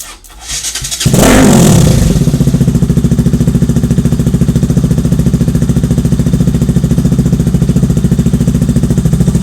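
A Yamaha RS200 motorcycle engine, hotwired by touching two wires together while opening the throttle, catches after a brief crank, then settles into a loud, steady rapid idle that runs on without pause.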